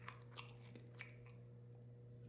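Crisp crunching as deep-fried gizzard shad, fried hard enough that its small bones can be eaten, is chewed up close, with a few sharp bites over a quiet, steady hum and no talking.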